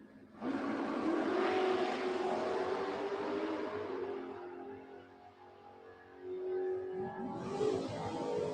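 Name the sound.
drag racing dragsters launching down the strip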